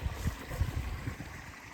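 A small farm creek flows nearby, a soft low gurgling and burbling of water over a short stretch, steady and fairly faint, with no voices.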